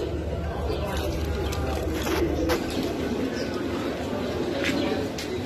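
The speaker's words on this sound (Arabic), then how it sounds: "هنا الطيور داخل القفص محل ابو عبد الله" Pigeons coo softly inside a cage at a Baghdad bird market shop, their low calls steady beneath a busy crowd hum and nearby voices.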